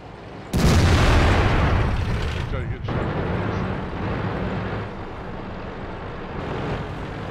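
Tank cannon shots in a video game battle over a diamond mine province: a sudden heavy boom followed by a long rumbling roar, then further blasts and ongoing low battle noise, with voices talking over it.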